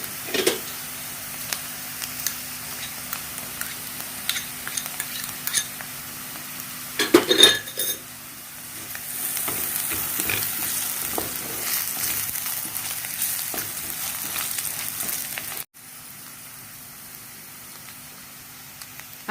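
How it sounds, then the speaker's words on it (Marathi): Grated coconut added to sautéed onion for a crispy okra (bhindi) fry, sizzling in a pan with intermittent stirring and utensil clinks, a brighter hiss rising midway, no talking. "आता आपला कांदा परतून झालेला आहे। आपण त्याच्यात आता खोबरं टाकायचं।"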